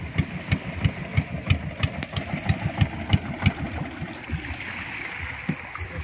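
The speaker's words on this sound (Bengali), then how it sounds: "দেখুন একদম ছোট্ট একটি নৌকা" A small motorboat's engine idles on a river in the Sundarbans, chugging in a steady close rhythm for several seconds before it softens and fades slightly, with water noise behind it.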